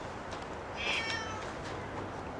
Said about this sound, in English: This is Bruno, the neighbour's cat.